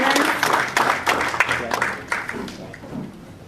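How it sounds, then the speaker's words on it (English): Audience applause for winners at a business conference on accessing capital, moderate clapping from a crowd in a hall that gradually fades over a few seconds, with faint voices mixed in. "So, round of applause to all our winners."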